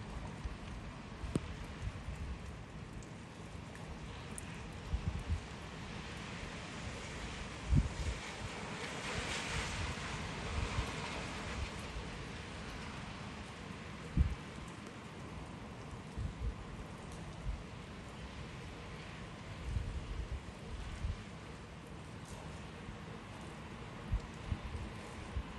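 Rain falls on Apparition Hill, a steady outdoor hiss of drops with wind noise rumbling against the microphone and a few soft knocks scattered through the long, even stretch.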